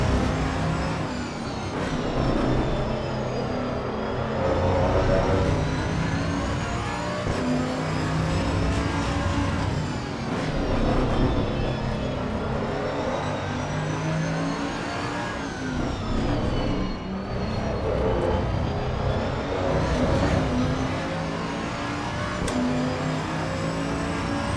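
A powerful car's engine revs and roars steadily in the racing game Assetto Corsa Evo, loud and close, with pitch rising and falling through gear changes and no talking.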